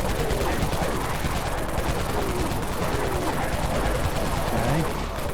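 Minigun fire in the video game Dead Frontier, a dense sustained roar of rapid gunfire running continuously and loud throughout, with no pauses between bursts.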